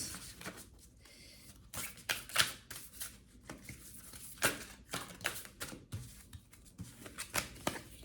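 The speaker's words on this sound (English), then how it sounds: "Let's give this deck a good shuffle." Cards being shuffled in quick riffling bursts with soft flutters and snaps between them, close and fairly quiet, no voices.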